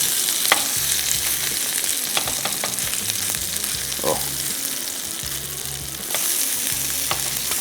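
Orfa kebab sizzles steadily in a hot pan, a loud continuous fry with crackling spits and occasional light clinks from turning the meat.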